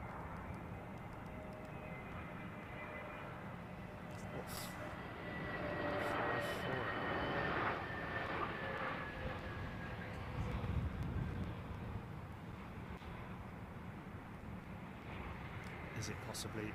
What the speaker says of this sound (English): It's a 321 KLM Neo, folks.